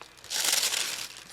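Tissue paper crinkling as Maison Francis Kurkdjian perfume packaging is unwrapped, a close, bright rustle that swells after a brief quiet start and continues for about a second, with no voices.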